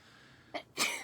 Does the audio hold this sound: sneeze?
yes